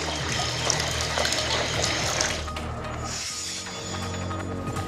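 Floodwater from heavy monsoon rain, with the Gad river risen into the Makhjan market area, rushes in a steady, close, broadband roar that holds for the whole stretch, with no voices.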